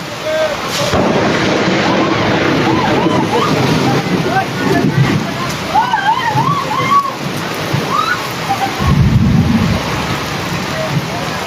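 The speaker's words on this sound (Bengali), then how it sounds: "আজ কিন্তু মায়ের মন্দিরে প্রচণ্ড ঝড় বৃষ্টি হচ্ছে" A heavy thunderstorm pours down at a temple beside its water tank, with loud, dense rain, rumbling thunder and bird calls through the downpour.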